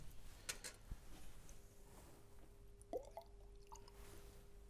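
Distilled water added to a test sample in a chemistry demonstration, a few faint, close drips and small liquid squishes with soft clicks in a quiet room.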